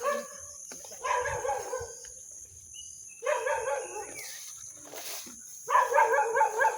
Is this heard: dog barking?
yes